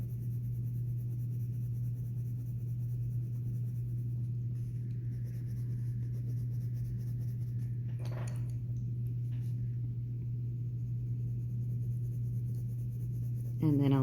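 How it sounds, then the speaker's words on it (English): A yellow colored pencil shades on paper with soft, steady scratching strokes beneath a constant low electrical hum, and a brief click near the end. "Then I'm going to use my colored pencil to create a layer of yellow."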